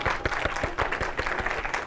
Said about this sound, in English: Please give her a clap and hand.